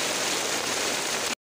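Heavy rain pours down in Taxila while the streets flood: a dense, even roar of water, loud and unbroken for over a second before cutting off abruptly.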